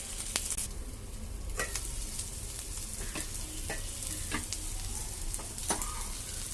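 Vegetables for egg fried rice frying in a covered pan, a continuous soft sizzling hiss with scattered light pops and faint clicks, steady and close.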